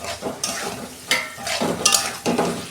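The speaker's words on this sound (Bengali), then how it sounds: "চিচিংয়েটা দিয়ে আর 2 মিনিট আমি কষাবো।" Snake gourd frying in spiced oil, stirred in a pan, with steady sizzling broken by several louder scraping stirs, close and fairly loud, no voices.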